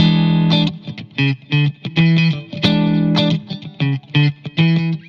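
Distorted electric guitar plays a short melodic phrase of plucked notes on the natural sixth and flat seventh, some sustained and some clipped, moving between neighbouring pitches with effects-laden tone.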